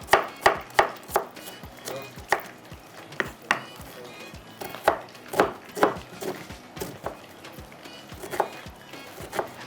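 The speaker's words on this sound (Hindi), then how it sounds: "जब तक कटिंग कर लेते हैं प्याज को थोड़ा सा बारीक बारीक करके" Onion chopped finely with a knife on a board, a brisk run of sharp close taps in uneven bursts with short pauses between, no voices.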